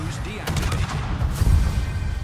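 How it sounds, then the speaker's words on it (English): A Smaland destroyer in World of Warships fires armour-piercing shells, loud booming gun reports with a rumbling low tail crowding a short stretch of combat. "You can also shoot AP at this point because he's showing full broadside to me."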